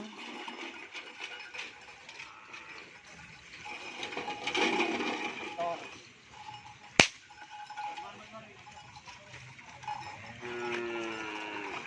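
Cattle at an outdoor gathering with many teams, low lowing and livestock sounds over a murmuring crowd, a sharp knock midway and a drawn-out moo near the end.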